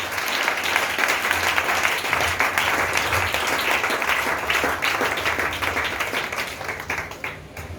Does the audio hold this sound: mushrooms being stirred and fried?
no